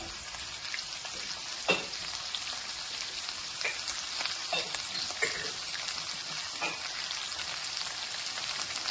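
Drumstick pieces frying in hot oil for a moong dal curry, a steady close hiss and crackle with scattered sharper pops, even and continuous throughout.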